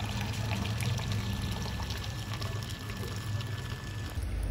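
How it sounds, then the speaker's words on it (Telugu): Water pours steadily into a container holding shampoo, making a continuous close splashing trickle with no speech over it, until a brief change near the end. "సో దీంట్లో నీళ్ళు నింపుకోవాలండి"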